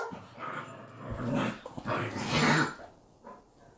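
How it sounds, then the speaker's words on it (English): Dogs growling and grumbling indoors at a cabin, a fairly close, rough rumble that rises and falls in waves for nearly four seconds. "The dogs are helping."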